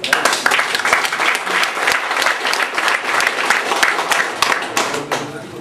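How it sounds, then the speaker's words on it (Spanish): An audience at the inauguration of a computer centre claps loudly and close by in a sustained burst, with people talking over the applause. "Para el Señor un fuerte aplauso."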